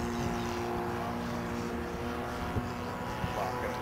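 Cessna 150 light aircraft engine droning steadily and fairly loud, a continuous propeller hum with faint tonal lines and no talking.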